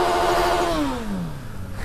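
A Suzuki B-King 1300 motorcycle engine revs loudly up close, then its pitch falls steadily as the throttle is released and it settles back down, heard alone.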